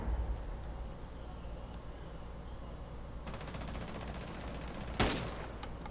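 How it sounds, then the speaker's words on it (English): Gunfire in Rainbow Six Siege: a faint patter of shots under a steady background hum, then a single sharp, loud shotgun blast near the end that rings briefly before fading. "Shotgun."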